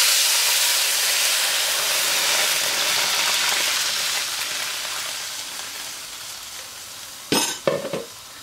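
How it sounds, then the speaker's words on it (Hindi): Eight cups of milk hit a pan of roasted vermicelli, raising a loud sizzling hiss that gradually fades over several seconds, followed near the end by a couple of sharp clattering knocks. "अब इसमें आप ऐड करेंगे 8 कप जितना दूध"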